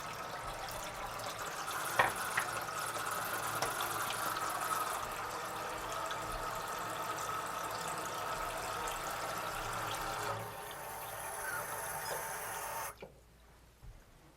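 Running water pours steadily over a Cyansky P25 flashlight in a continuous splashing stream under a tap, then the flow is shut off and it falls quiet near the end.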